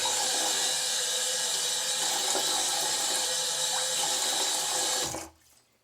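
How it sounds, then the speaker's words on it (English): A noisy bathroom faucet runs at full force with a loud, steady hiss and splash while a face is wetted before shaving, then cuts off abruptly near the end. "I'm back in the world of a noisy faucet"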